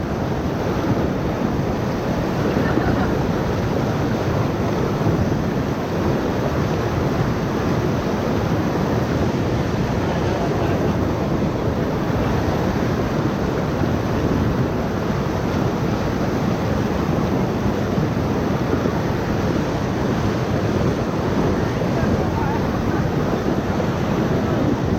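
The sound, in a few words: rushing river water while rafting the Upper Ocoee River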